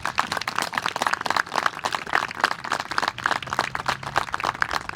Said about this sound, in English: So if we could get a round of applause for his service